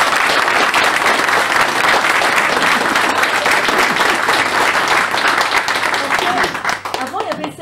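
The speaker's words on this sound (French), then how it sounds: "on peut les applaudir" An audience applauds a municipal sports service team at a gathering, a dense, sustained burst of many hands clapping loudly throughout, thinning out near the end.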